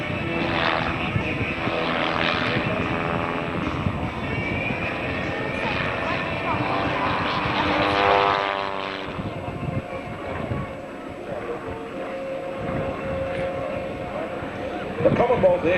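A CAC Wirraway, the Commonwealth Aircraft Corporation general purpose trainer and fighter, flies past at an air show. Its propeller engine drones steadily, swelling around the middle of the pass, while an announcer talks over it throughout.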